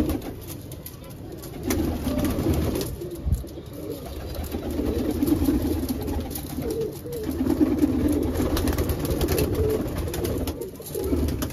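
Pigeons cooing in low, throaty bursts, several calls overlapping close by, with a faint background hum.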